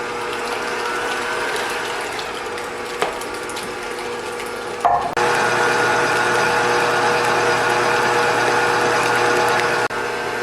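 Electric mixer beating four eggs at reduced speed, a steady mechanical whir with a faint rattle, stopping briefly around the middle and then resuming louder and continuous for several seconds.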